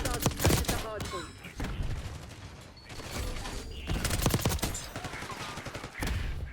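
Rapid automatic gunfire sounds in the video game Black Ops 6, with dense bursts recurring throughout under mechanical clicks and game effects.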